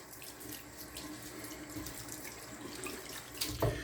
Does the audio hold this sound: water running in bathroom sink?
yes